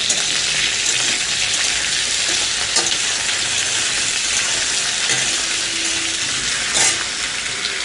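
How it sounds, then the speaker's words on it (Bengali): Potatoes frying in oil in a pan on a home kitchen stove give a steady, loud, close sizzle with occasional stirring scrapes, continuous throughout with no talking. "আলু ভাজা।"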